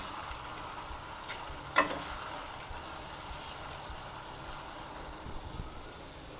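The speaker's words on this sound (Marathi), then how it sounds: "त्यानंतर टोमॅटो टाकूया। चांगलं आपण परतून घेऊया हे।" Tomatoes sauté for chicken biryani with a quiet, continuous frying hiss. A single sharp clink of a utensil against the pan sounds early on, followed by a few soft stirring scrapes near the end.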